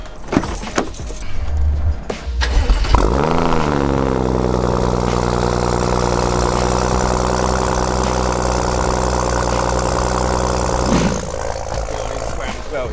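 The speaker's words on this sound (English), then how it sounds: "That is a proper noisy cold start, isn't it?" An Audi RS6 with a fault starts from cold: keys and clicks, then the engine catches and settles into a loud, rough, steady idle that runs on, with a voice briefly heard early.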